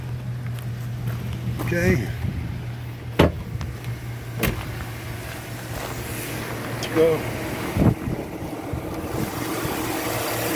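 A 2007 Chevy Tahoe LTZ with a 5.3 V8 and an aftermarket air cleaner idles steadily with a low constant hum, joined by a few sharp clicks and knocks while someone speaks briefly over it.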